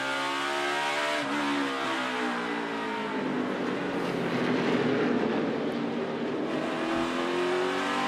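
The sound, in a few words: NASCAR Cup Series race car at Martinsville Speedway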